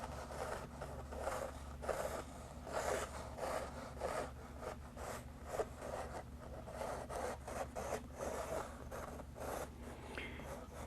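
Rapid scratchy sketching strokes on a drawing board for a small dancing figure, steady rhythmic rubbing back and forth throughout, close and moderately loud over a low hum, no talking.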